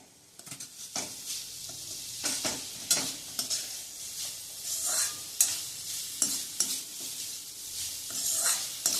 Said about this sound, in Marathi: मीडियम फ्लेमवर हे परतून घ्यायचंय